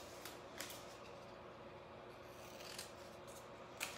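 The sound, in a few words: stencil cutting scissors cutting canvas letters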